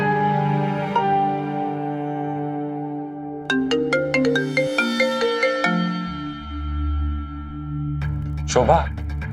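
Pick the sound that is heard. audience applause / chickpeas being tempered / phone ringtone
phone ringtone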